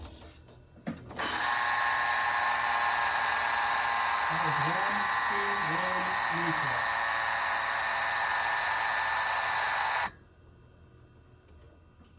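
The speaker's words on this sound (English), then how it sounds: "shift it through some gears until the pump comes on" The hydraulic pump of an SMT gearbox runs while gears are shifted, producing a steady, loud electric whine with a mechanical buzz that starts abruptly, holds for about nine seconds and cuts off sharply, with a faint voice partway through.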